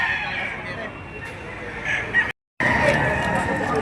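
Rooster crowing and clucking at a Philippine chicken sale, the birds sold as San Juan fowl, with people talking over the hubbub around them and a brief dropout to silence partway through.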